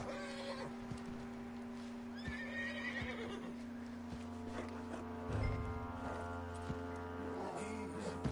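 A horse in Red Dead Redemption 2 whinnies amid faint hoof clip-clops, set against a steady low in-game hum and ambient background, with a louder thump about two thirds through.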